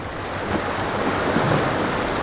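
Waves wash and break at the end of a short breakwater on a sandy beach, a steady broadband surf roar with wind noise buffeting the microphone, close and fairly loud throughout, with no talking.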